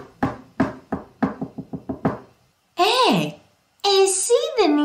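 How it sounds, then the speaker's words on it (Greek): About nine sharp knocks on the door of an ant's nest, rapid and close in an uneven rhythm, from a told version of the cicada and the ant fable. Two bursts of animated, childlike character speech follow. "και χτύπησε την πόρτα της φωλιάς"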